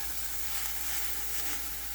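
Chopped onion sizzles steadily in a hot pan, a constant close frying hiss with no break and no talk over it.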